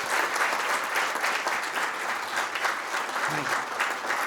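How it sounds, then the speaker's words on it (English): Warm, continuous applause from a medical meeting audience in Reggio Emilia honoring a doctor, thick clapping at steady volume with a brief low vocal murmur near the end. "let's give Dr. Valkavi a round of applause."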